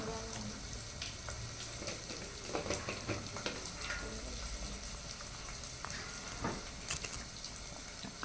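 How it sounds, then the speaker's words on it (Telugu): Onions fry in a pan for a Telugu amaranth leaf dish, a steady soft sizzle and crackle close by with occasional stirring scrapes, fairly quiet throughout. "వాటిని ఒక 2-3 మినిట్స్ అట్లా ఫ్రై చేసుకోండి"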